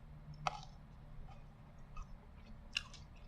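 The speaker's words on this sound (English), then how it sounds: "And crunch on some Buckley's." Someone crunches on a Buckley's cough drop close to the mic, with two sharp, crisp crunches and a few softer chewing clicks over a low, steady background hum.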